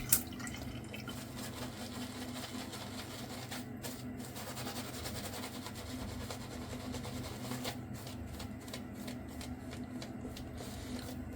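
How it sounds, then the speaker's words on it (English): Water running from a tap while preparing to shave, a faint, steady trickle with light dripping and splashing, continuous and close by in a quiet room. "And get some water on that."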